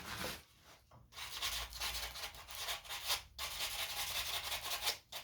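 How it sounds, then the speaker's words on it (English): A piece of sandpaper is rubbed back and forth over dog-ear fence wood being shaped into a gnome, giving continuous rasping strokes with brief pauses, close and moderately loud, without speech. "Let's get a piece of sandpaper here. Sandpaper."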